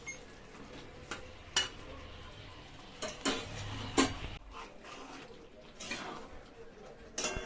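Fried paneer tipped into half-cooked cauliflower in a pan, heard as scattered metallic clinks and scrapes of a spoon against cookware over a soft sizzle, with a few sharper knocks spaced apart.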